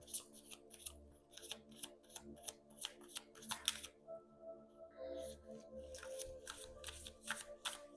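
Tarot cards being shuffled by hand, a steady run of crisp riffling bursts that repeats over and over, close and fairly quiet over a low background hum, with no talking.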